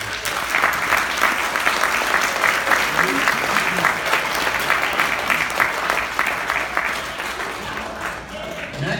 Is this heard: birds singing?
no